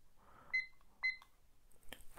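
A kitchen-style timer being set for two minutes gives two short, quiet electronic beeps about half a second apart, followed by faint button clicks.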